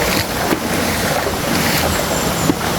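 A waterfall pours in a constant, rushing wash of water close by, steady and broadband with no talk over it.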